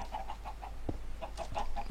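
Chickens in a Minecraft farm, a faint run of short, evenly spaced clucks with a soft thump midway, quiet and without talk.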